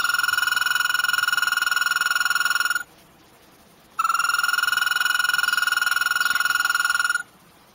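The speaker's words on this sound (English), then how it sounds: "The American toad is a really long whistle." An American toad gives a long, steady high whistled trill, two sustained bursts of about three seconds each separated by a short pause, clear and fairly loud with no voices.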